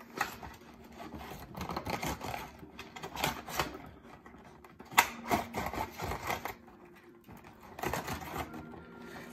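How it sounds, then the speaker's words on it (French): A knife scraping and slicing through packing tape on a figurine's cardboard box, with crackling and rustling of cardboard up close over several seconds, no talking. "Notre petit couteau pour enlever les scotch."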